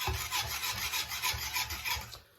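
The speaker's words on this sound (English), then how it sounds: "Whisk it." Plantain porridge made with coconut milk blended with banana is whisked steadily in a pot, giving a rhythmic run of brisk scraping, swishing strokes close up that stop near the end.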